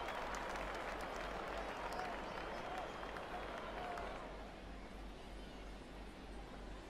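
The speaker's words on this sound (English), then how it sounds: "Oh, I got a cheer." Steady crowd cheer and applause rising inside an MLB The Show baseball game as Kid Romero comes up to bat, a dense wash of fans that swells briefly and then eases slightly.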